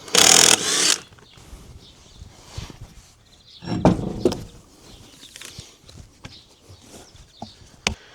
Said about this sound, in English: now we go ahead and take the wheel off